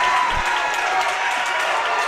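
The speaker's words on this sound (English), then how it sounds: "Eli Browning slams it home. And this crowd goes wild." Basketball crowd at a high school senior boys game, Mountain Pine vs. Poyen, roaring and applauding after a slam dunk; a loud, sustained wall of cheering and clapping fills the gym throughout.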